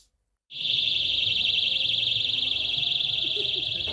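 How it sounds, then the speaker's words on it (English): A loud, high-pitched electronic alarm fixed to a flying balloon starts abruptly after a brief silence and blares continuously with a fast warbling pulse, with faint background murmur underneath. "they had balloons which flew around, which had alarms blaring off"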